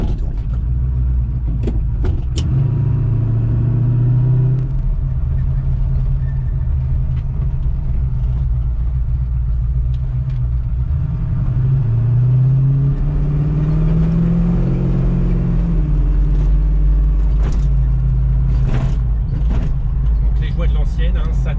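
A 1968 Ford Mustang Fastback with a 6.3 litre stroker V8 drives along, its loud, deep engine rumbling steadily close by with rising and falling revs as it accelerates and shifts, while people talk over it.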